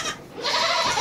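A goat in a barn gives a loud, close bleat lasting about a second, rising after a brief, quieter breath.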